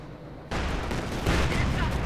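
A field gun firing in the real-time strategy game Company of Heroes 2, heavy booming blasts over dense battle noise, with a sudden loud onset and a second surge of impacts, while a commentator talks throughout.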